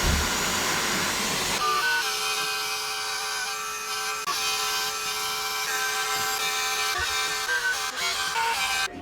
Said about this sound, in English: while we're drilling these tiles